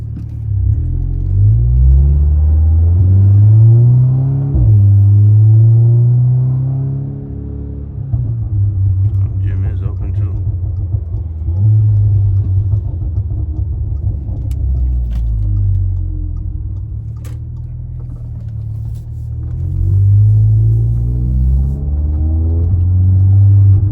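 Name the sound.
car engine and exhaust noise in cabin, Cadillac CTS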